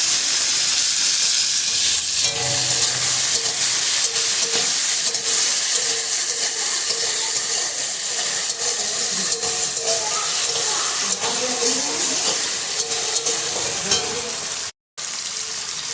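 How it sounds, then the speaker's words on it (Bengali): Chopped tomato fries in a pan, a loud, steady, hissing sizzle that stays close and constant throughout, with faint stirring underneath and a brief dropout near the end. "কুচনো টমেটোটা দিয়ে দেবো"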